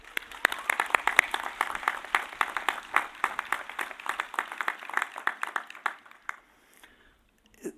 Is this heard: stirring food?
no